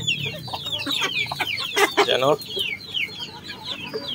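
A native Joloano hen clucks repeatedly close by, with other chickens calling around it as they feed on papaya, and a person speaking briefly.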